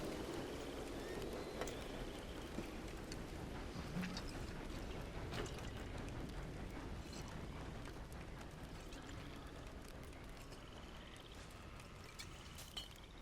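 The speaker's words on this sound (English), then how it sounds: "It's been raining for a while in this game" Steady rain in Red Dead Redemption 2, a dense broadband wash of drops falling continuously at an even level throughout, with occasional faint clicks and no voices.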